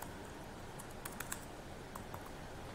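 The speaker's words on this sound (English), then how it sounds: "I managed to remove the U key from my keyboard, so you'll notice that I have trouble typing U" Quiet, irregular clicking of keys on a computer keyboard that is missing its U key, taps arriving in short bursts with brief pauses over a faint steady background hiss, no voices.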